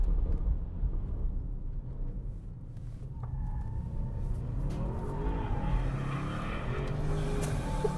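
An Audi RS6 Avant engine rumbles low and steady, then climbs into a rising rev as it accelerates, loud and close throughout.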